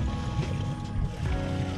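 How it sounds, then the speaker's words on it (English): Water pouring out of a pipe outdoors on an early spring morning walk, a brief, steady, close rushing and gurgling flow with no pauses. "the water is coming out here from this pipe and going all around"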